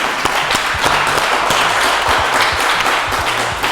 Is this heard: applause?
yes